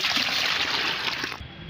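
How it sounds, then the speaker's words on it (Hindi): Plain water pours steadily into liquid fertilizer, a continuous trickling splash close by that cuts off near the end. "इसमें पहले हमें सादा पानी मिलाना होगा"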